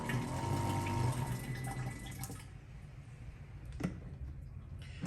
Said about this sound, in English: You can hear the pump starting to run